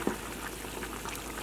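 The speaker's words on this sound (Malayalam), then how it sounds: "ഇപ്പോൾ നമ്മുടെ കറി നന്നായിട്ട് തിളച്ചിട്ടുണ്ട്" A pot of vegetable curry for chapathi and puri bubbles at a full boil, with soft, continuous blipping and popping close by and no voices.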